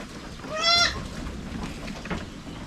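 A castrated male goat on a farm gives a single short bleat, fairly close, followed by low background rustle and ambient farm noise.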